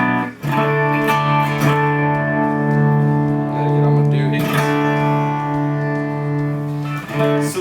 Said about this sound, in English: this reverb pedal's got an octo effect that I like